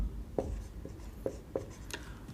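Handwriting while working a complex-number maths solution, soft close scratches with a few sharper taps of pen or chalk at irregular intervals over a quiet room, no talk.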